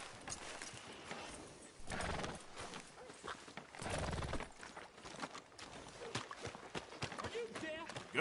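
Horse hooves clip-clop along a town street in the Red Dead Redemption 2 video game, a steady trotting rhythm with a couple of louder swells, faint and mixed with background game ambience.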